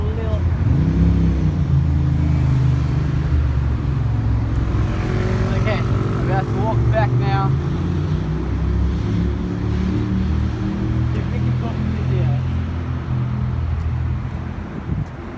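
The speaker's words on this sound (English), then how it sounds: "There's a lot of trucks," Heavy trucks and other traffic rumble past on busy Heidelberg Road, a steady loud roadway drone with vehicles passing close by throughout, while people talk faintly during the walk.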